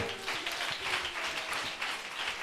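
A church congregation at a Sunday service claps and applauds, a dense, steady wash of many hands heard from within the room and continuing throughout.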